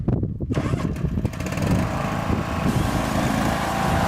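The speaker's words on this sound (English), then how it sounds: "James is going to go and race his mower" Ride-on lawn mower engine revving as it pulls away in a lawn mower race, a loud, steady, rough motor drone that builds after a brief quieter start, close by.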